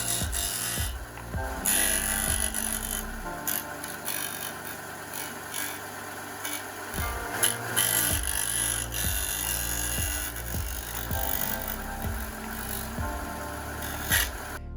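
Clarke CS4-6E belt and disc sander grinding a small piece of aluminium, a continuous motor whine with rough, scraping grinding that rises and dips as the metal is pressed in, close and steady throughout.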